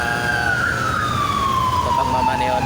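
An ambulance siren passing by on a road in Cainta, Rizal, a loud continuous wail that slowly falls in pitch as it goes past amid traffic rumble.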